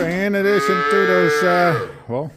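A cow moos loudly and drawn-out, followed by a second shorter moo close by.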